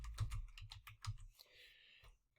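Quick keystrokes tap on a computer keyboard, a short, faint burst of about ten close clicks in an uneven rhythm, trailing off into a soft hiss.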